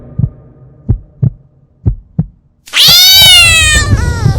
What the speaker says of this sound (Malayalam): പെട്ടെന്ന് അവന്റെ മുന്നിലേക്ക് ഒരു കറുത്ത പൂച്ച എടുത്തു ചാടി